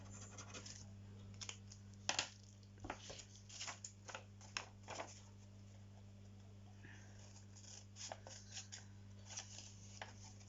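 Scissors snip through paper while trimming small pieces from a handmade card envelope, a series of close, crisp cuts in irregular bursts over a steady background hum.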